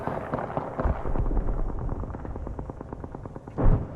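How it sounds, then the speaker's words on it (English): Enemy gunfire in the video game Apex Legends rattles in rapid, dense bursts throughout, loud and continuous with a heavier blast near the end. "The enemies are shooting at me."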